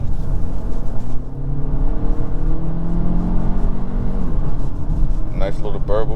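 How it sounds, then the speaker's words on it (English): A 2022 Hyundai Elantra N Line with a dual-clutch transmission, its engine giving a steady low burble with rising tones while driving, loud and close inside the cabin, with someone talking over it. "Nice little burble."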